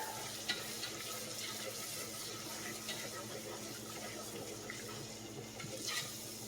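Peanut sauce with onion powder being stirred in a bowl, a continuous close scraping and swishing of the mixing with a couple of light knocks, no talking.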